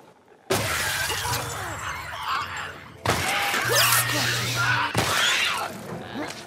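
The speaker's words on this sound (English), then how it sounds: "Can I bust you through the glass?" Glass shatters loudly three times in The Last of Us, each sharp crash followed by tinkling debris, close and harsh, with a voice and grunts between the breaks.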